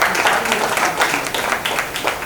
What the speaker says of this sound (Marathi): म्हणून गुरुकुलसाठी जोरदार टाळ्या वाजवल्या